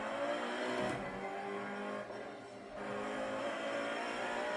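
GT3 race car in a sim racing game pulling out onto the track in first gear, a steady mid-level engine drone with a slight dip in the middle, no talk.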